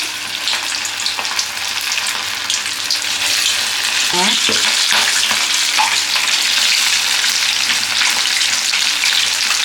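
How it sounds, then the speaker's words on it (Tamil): Sardine fish frying in hot oil in a pan, a loud, continuous crackling sizzle with a brief stirring or movement sound midway, no talking. "இப்போ மீனை பொரிச்சு எடுத்து எண்ணெய் நல்லா காஞ்சிருச்சுங்க."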